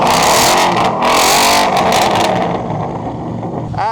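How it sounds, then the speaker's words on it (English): A loud, cheap rally car's engine revs hard and close, a raspy roaring blare that holds at high revs, then drops away toward a lower idle. "Please rev it for the YouTube"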